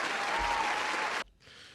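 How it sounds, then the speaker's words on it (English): A brief burst of audience applause plays loudly for just over a second, cuts off sharply, then resumes more faintly. "a round of applause"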